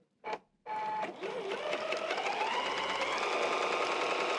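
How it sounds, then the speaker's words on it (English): A sewing machine stitching two fabric pieces together along a long edge: a brief start-up burst, then a close, steady, continuous mechanical whirr that holds at even volume. "I'm going to stitch down the long side"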